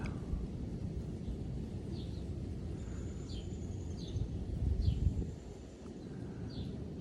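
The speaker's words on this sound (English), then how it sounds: "We're hearing a chipping sparrow and a robin." Outdoor birdsong from a chipping sparrow and a robin: faint, repeated high chirps and short phrases over a soft rustling background, heard at a distance.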